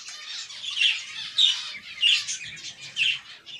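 Pet finches chirp and squawk in a cage while their nest is being cleaned, a steady run of high, bright calls with louder bursts about every half second to second, close by with no talking.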